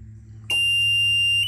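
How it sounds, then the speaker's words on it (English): A circuit-triggered timer's buzzer sounds at the end of its cycle: a single loud, steady electronic tone starts abruptly and holds for about a second over a low background hum. "the red light and buzzer."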